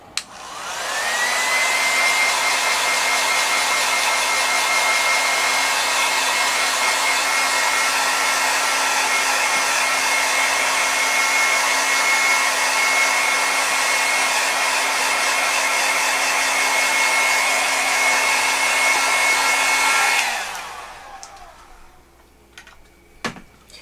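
A hair dryer drying paint on a wheelbarrow being painted with flowers, blowing with a loud, steady whine and rush of air for about twenty seconds before shutting off, followed by a few faint handling clicks.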